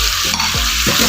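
Chicken karahi in restaurant-style Afghani fashion sizzles steadily as puree from three or four ground medium tomatoes goes in, with a loud, continuous hiss and stirring scrapes close by, no voices.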